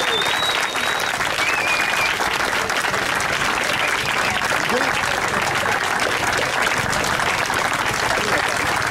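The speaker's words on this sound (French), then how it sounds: "vous faire un tonnerre d'applaudissements" A crowd gives sustained, dense applause at a long-distance open-water swim event, close and continuous, with a faint whistle and some voices over it.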